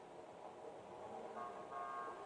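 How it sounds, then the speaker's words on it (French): A car horn honks in GTA 5, a faint steady toot rising briefly over low background noise, sounding twice toward the end. "Klaxon une fois pour me dire oui ou non."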